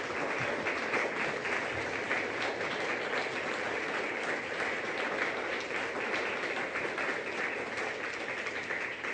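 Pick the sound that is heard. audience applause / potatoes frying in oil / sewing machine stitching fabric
audience applause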